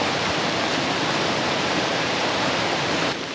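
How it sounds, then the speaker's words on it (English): Floodwater from a bomb cyclone storm surges under a bridge with a loud, steady broadband roar, like a powerful rapid pouring through a channel, constant and close throughout. "He walks us to the bridge to see this incredible amount of water surging through."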